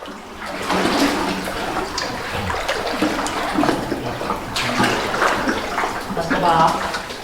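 Underground river flowing through Goa Cermai cave, a steady rushing and trickling water wash that fills the space, with faint voices occasionally audible beneath it.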